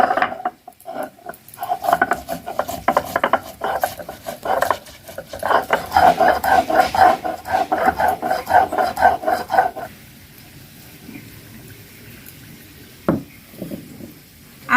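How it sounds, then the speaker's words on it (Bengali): Ginger and cumin are ground together on a stone slab, a rhythmic scraping and knocking of stone on stone that runs for several seconds and then stops, with a voice speaking. "এবার আদা আর জিরে একসঙ্গে বেটে নেব।"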